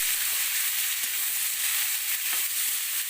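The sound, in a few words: frying banana stem in oil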